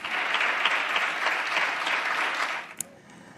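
Spanish deputies in the parliament chamber, spaced apart, applaud health professionals with sustained, dense clapping that fills the room, then fades out with one last sharp clap near the end.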